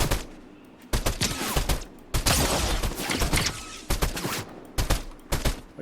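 Bursts of video game gunfire aimed at the player crack out in several loud volleys, with rapid automatic fire and short pauses between clusters, and a voice speaks briefly over it.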